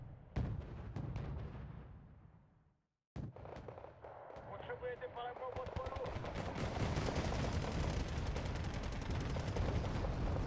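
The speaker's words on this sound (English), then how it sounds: "Look at this mortar spam, isn't this beautiful?" Wargame: Red Dragon battle with massed mortar and gunfire: dense rapid bursts and booming impacts pile into a continuous loud barrage after a brief silence, with a voice talking faintly underneath.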